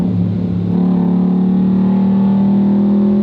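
A Ford Mustang with over 700 horsepower accelerates hard in second gear on an open road, its engine a loud, steady, droning roar that holds a strong low tone throughout.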